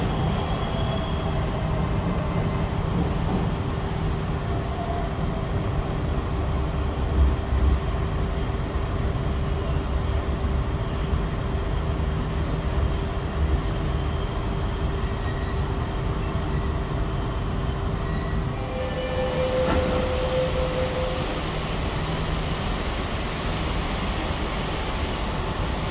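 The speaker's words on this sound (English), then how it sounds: "The train bound for Bundaran Hatta at platform 2 is departing." An MRT subway train departs from an underground station platform, a steady low rumble and hum filling the space throughout, with a brief tonal chime or whine near the end as it pulls away.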